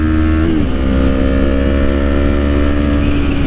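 A Yamaha R3 streetfighter motorcycle engine runs on throttle, a loud, steady, buzzing drone close by that dips briefly in pitch early on, then holds even.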